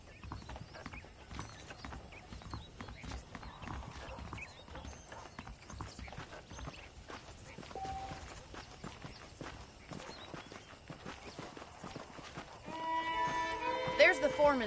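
Horse hooves clip-clop at a walking pace in the Western video game Red Dead Redemption, a soft continuous rhythm with a whinny and ambient sounds, a voice speaking near the end.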